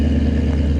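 Engine of a 2019 Mustang GT rumbling loud and close with a steady low growl and slight clatter, holding near idle without any clear rev climb.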